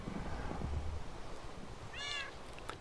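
A Minecraft cat gives a single short meow partway through, quiet and brief, against a soft steady background hiss.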